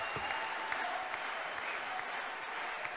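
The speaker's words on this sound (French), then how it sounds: "Vous pouvez encore l'applaudir très fort, monsieur Antoine Le Brinat" An audience at an UPR party gathering applauds steadily and densely for about three seconds, a sustained wash of clapping from a room full of people.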